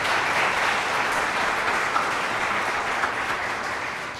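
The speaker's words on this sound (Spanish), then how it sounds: "Denle un aplauso al Señor por eso esta mañana." Congregation applauding during a Sunday morning church service, a steady, full wash of clapping that fades slightly toward the end, with no talking.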